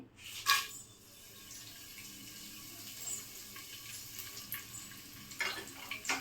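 Curry leaves, dried chillies and cumin frying in hot oil for vangi bath, a faint steady sizzle with a few sharp crackles and pops scattered throughout.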